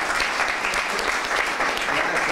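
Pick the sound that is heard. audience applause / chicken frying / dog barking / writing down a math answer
audience applause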